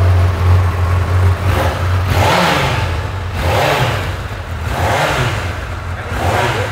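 A Honda CB1000 motorcycle engine running close by, with a steady idle rumble broken by several repeated throttle blips that swell and fall in a regular rhythm.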